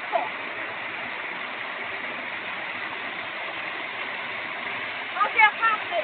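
A waterfall rushing with a constant broad hiss of falling water, close and steady, while voices briefly rise near the end.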